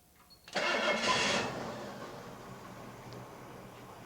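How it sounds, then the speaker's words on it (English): An engine fitted with an Autolite 4100 carburetor cranks and catches with a loud burst of starting noise, then drops into a steady, quieter idle that runs to the end, with no talking. "I'm going to start the engine, which we'll reach over and start it."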